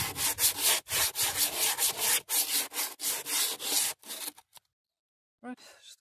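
A chalky gutter surface is brushed and sanded by hand in quick, rhythmic back-and-forth scrubbing strokes, close and loud, stopping abruptly near the end before a short voice is heard.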